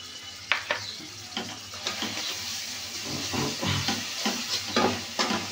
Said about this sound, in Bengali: এবার পেঁয়াজ কাঁচা লঙ্কা বাটাটাকেও ভালো মতন ভেজে নিতে হবে